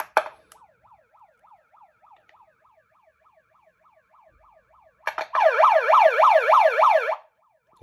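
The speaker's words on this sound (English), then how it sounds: "It does come with a siren." A Pyle megaphone bullhorn plays its built-in siren: a faint, steady wailing cycle for several seconds, then a much louder, rapid up-and-down wail near the end, with no talking.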